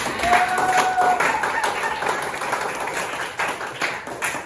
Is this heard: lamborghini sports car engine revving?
no